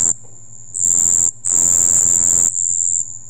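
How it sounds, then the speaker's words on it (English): Australian crickets at night, a loud, piercing high chirr that comes in close bursts with short gaps between them. "So Australian crickets at night doing whatever they're doing."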